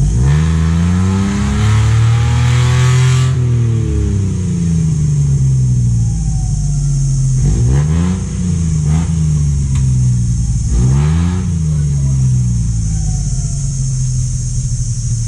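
A motorcycle engine revs continuously and loudly on a rough, difficult road, its pitch rising and falling in repeated surges as the throttle opens and eases, close up with no talk.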